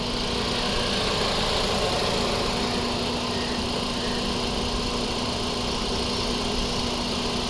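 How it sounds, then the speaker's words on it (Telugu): A 2021 Maruti Swift Dzire ZXI+ AMT petrol car idles with a steady, even engine hum and a faint constant drone. It runs uninterrupted throughout with no speech. "ఇంజన్ స్టార్ట్ చేసి చూపిస్తున్నాను, ఇంజన్ సౌండ్."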